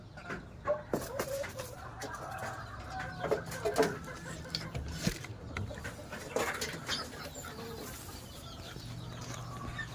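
Chickens on a farm cluck softly in the background, scattered low calls over a steady ambient hum with a few nearby knocks and rustles.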